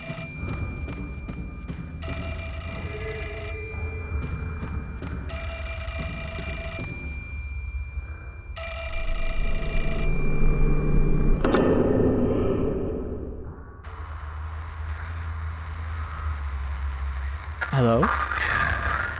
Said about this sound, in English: Oh, hold on, we got a phone call.